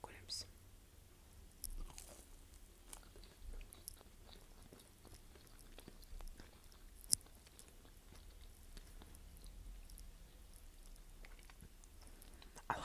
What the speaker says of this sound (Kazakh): қазір вареньемен жеп көреміз